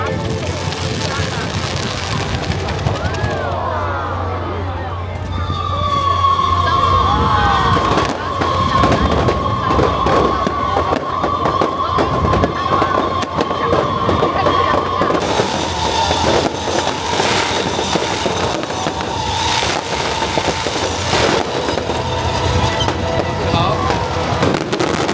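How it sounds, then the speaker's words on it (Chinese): A nighttime fireworks show at a fishing harbour festival in Keelung bursts with repeated booms and crackles over a continuous crowd murmur and a background music track, loud and sustained throughout. "晚上360秒的烟火秀，更是将活动带到最高潮。"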